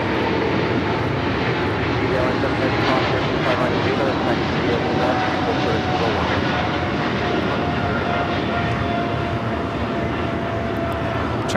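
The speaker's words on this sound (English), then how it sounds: "China Cargo Airlines, the Cargo King 222 taking off to Shanghai on the 777 freighter" A China Cargo Airlines Boeing 777 freighter at LAX roars steadily through its takeoff run, a loud sustained engine rumble and whine, with a voice speaking over it.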